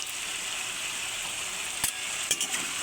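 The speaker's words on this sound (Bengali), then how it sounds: "ভালো করে মিশিয়ে নিচ্ছি।" Turmeric and chili powder are stirred into a frying gourd-and-fish dish, a steady soft sizzle broken by a couple of quick clinks of a utensil against the pan.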